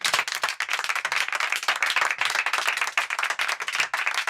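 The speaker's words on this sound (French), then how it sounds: "On peut s'applaudir, je pense." Disneyland Paris staff applaud themselves backstage before the 25th anniversary welcome of the first guests, a dense, steady burst of close clapping from a small group filling the whole stretch without talk.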